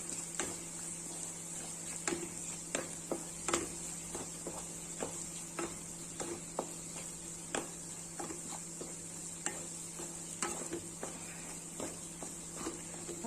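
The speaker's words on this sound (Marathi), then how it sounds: "थोडस हळद घालूयात परतून घेऊयात" Vegetables with asafoetida and turmeric fry quietly in a pan, a faint low sizzle broken by soft intermittent clicks and scrapes of a stirring spoon against the pan, with a steady hum underneath.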